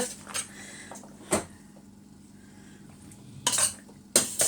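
Metal spoon scraping and clinking against a saucepan while Moroccan salad ingredients are mixed, a few sharp clatters spaced apart over quiet background hum, fairly close.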